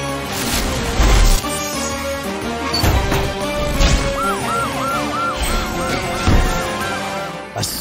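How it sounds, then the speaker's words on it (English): Cartoon police truck siren in a children's rescue animation, a loud wailing tone with rapid warbling swoops amid music and busy effects, near and continuous. "Use your sirens so the baby can hear you!"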